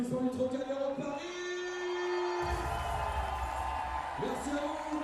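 Crowd cheering and whooping at a FIBA 3x3 Europe Cup basketball event at the Trocadéro in Paris, a lively swell of voices and shouts running throughout over an amplified announcer voice.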